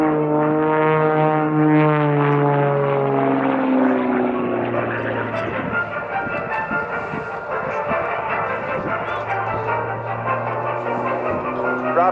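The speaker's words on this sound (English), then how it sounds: "Rob specially built this plane called an MXS RH with a 385 horsepower engine to be able to do these maneuvers." MXS RH aerobatic plane with a 385 horsepower engine performing airshow maneuvers, its propeller drone loud and sliding in pitch as it passes, then settling into a steady hum with voices faintly over it.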